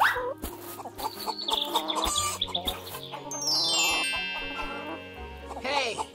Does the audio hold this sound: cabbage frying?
no